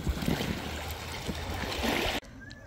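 A boat pounding across big waves: broadband splashing and hull slap with a steady rushing wash that runs loud for about two seconds, then drops off abruptly to a quieter hiss.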